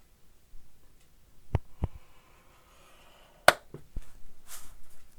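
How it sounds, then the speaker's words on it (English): A bone folder scoring paper while a booklet is made, giving a few sharp pops and clicks spread out, one louder crack near the middle, with faint scraping between them and no voices. "did you hear that popping sound?"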